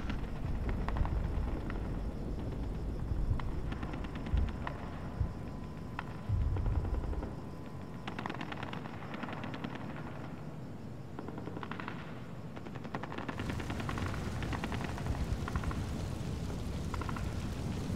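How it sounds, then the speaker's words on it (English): Grenade and RPG explosions mix with steady gunfire in the tactical shooter game Insurgency. The rumbling, crackling battle stays fairly distant and constant, and a few heavier thumps stand out early on. "All nades spam, it's RPGs. RPGs, fire everywhere."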